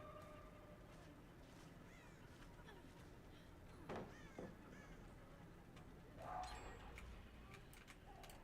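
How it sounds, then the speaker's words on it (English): Treacherous Crows in the video game Dead by Daylight, several harsh caws and flaps rising over a low, quiet game ambience, with two louder bursts standing out. "These fucking Treacherous Crows."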